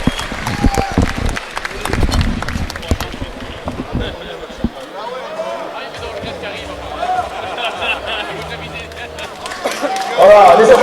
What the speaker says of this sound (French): Voilà, les applaudissements.